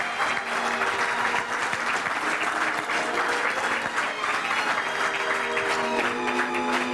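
An award ceremony audience applauds as a company chairman is honoured, a loud, dense, continuous wash of clapping from a large crowd with faint music underneath.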